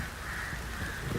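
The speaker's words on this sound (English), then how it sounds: "这是鹰。" A single hoarse, drawn-out hawk or eagle cry rings out in The Witcher 3, moderately loud and steady for about a second, with no talk.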